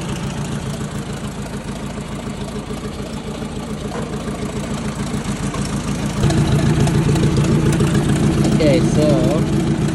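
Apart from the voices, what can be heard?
1956 Ford 800 tractor engine running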